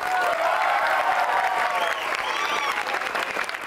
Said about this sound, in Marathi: तुमच्या सगळ्यांसाठी एकदा टाळ्या जोरदार